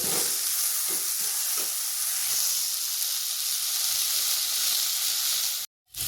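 Steady, dense sizzling of tomatoes frying in a pan for tomato chutney, close and constant, with faint stirring scrapes early on and a brief drop near the end.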